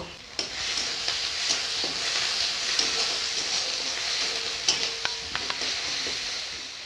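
Onion paste and ginger paste frying in a pan give a continuous, moderate sizzle, with occasional light scrapes and taps of a stirring spoon against the pan.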